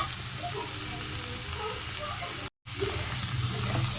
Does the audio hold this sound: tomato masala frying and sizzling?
yes